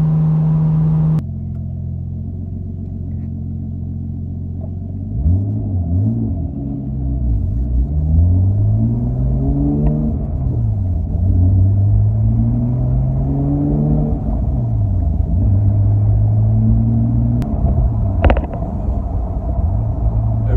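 A car engine with a turbo drones steadily from inside the vehicle, then rises and falls through several repeated revving sweeps with a whirring spool, loud and close.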